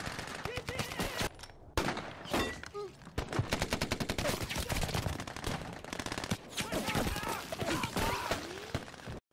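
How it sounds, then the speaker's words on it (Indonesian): Dense, rapid gunfire from a battle in the Chinese civil war against nationalist troops: machine-gun bursts and single shots crackle continuously, with a narrator speaking over the shooting. "Tiba-tiba saja suara tembakan terdengar memecah keheningan dan baku tembak kembali pecah."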